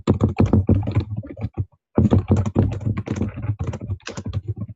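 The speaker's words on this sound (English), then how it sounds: "I'm typing this." Rapid clattering keystrokes on a computer keyboard in dense bursts, close and fairly loud, with a short pause near the middle before the typing resumes.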